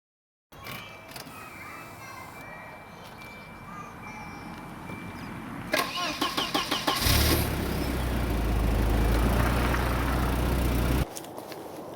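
A Volvo 940 Turbo car engine accelerates hard with a rapid run of shift-like pulses, then settles into a loud, sustained low roar as the car pulls away.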